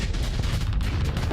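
Giga Cannons firing in the modded space combat game Starsector, a dense, loud barrage of booming shots rolling together with no gaps.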